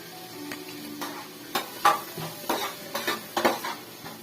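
A spoon scrapes and clatters in a pan while pav bhaji masala is stirred into melted butter, making soft, close scraping strokes and light metallic taps in an uneven rhythm over a quiet kitchen hum, with no talking.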